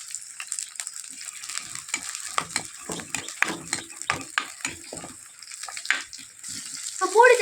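Onions and green chilies fry in sesame oil for a kara kuzhambu, with a steady sizzle under repeated scraping stirs of a spoon in the pan and a brief louder rattle near the end.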